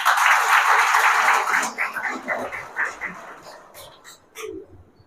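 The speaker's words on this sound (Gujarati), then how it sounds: "આપણે સૌ તેમનું તાળીઓથી સ્વાગત કરીએ" Applause welcoming a visiting family at a gathering for blind people, a burst of hand-clapping from a group that fades after a couple of seconds into scattered claps and background voices.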